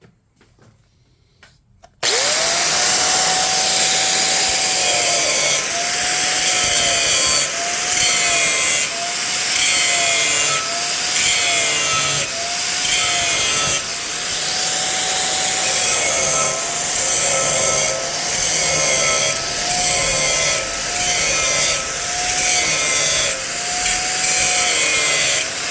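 Power saw cutting out a wooden katana blank, a loud continuous whine with repeated pitch swoops as the blade works through the wood, running steadily close up for over twenty seconds.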